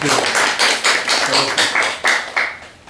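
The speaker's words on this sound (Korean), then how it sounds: "소장님 짧게 한 말씀만 좀 부탁드리겠습니다. 박수 부탁드립니다" Audience at a policy seminar clapping in welcome, a sharp run of distinct, fairly loud claps in a loose rhythm that thins out and fades toward the end.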